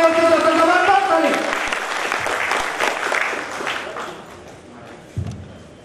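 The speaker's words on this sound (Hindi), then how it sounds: "जबरदस्त ताली आप सभी की ओर से जबरदस्त ताली" Audience applause at a health seminar, a burst of clapping from the crowd heard over an announcer's voice on a loudspeaker, fading gradually to a few scattered claps and a thump.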